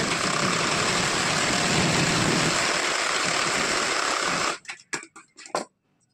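Sewing machine stitching a folded fabric strip on a blouse: a loud, steady whir that runs for about four seconds, then stops and gives way to a few short bursts of motor sound.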